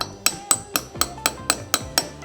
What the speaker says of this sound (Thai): ถ้าตอกให้ลงไปเสมอนะครับเดี๋ยวผมต่อให้ดูก่อนนะครับ